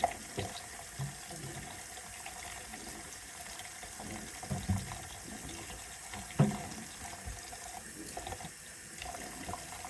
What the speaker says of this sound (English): So let's get some hot water.